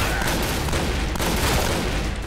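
Dense, continuous gunfire in a shooting video game, loud rapid shots blending into an unbroken barrage for the whole stretch.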